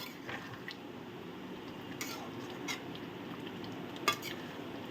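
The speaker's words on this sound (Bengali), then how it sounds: "এখন আমি এটাকে নেড়ে চেড়ে নামিয়ে ফেলবো" Chal potol, rice and pointed gourd with garam masala, stirred in a pan, soft steady sizzle with occasional spatula scrapes and metallic clinks, close and fairly quiet.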